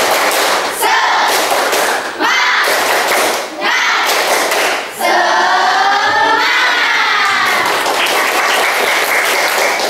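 A school class performs the rhythmic clapping chant tepuk semangat, loud group claps in patterned bursts with brief pauses, while voices chant along in unison, especially in the later part.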